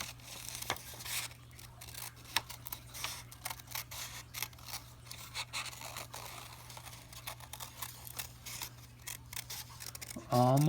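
Scissors snip paper while a shape is cut out for a Matisse-style paper cutout: close, quiet, irregular clicks and crisp snips continue throughout over a low steady hum, with a short louder sound at the very end.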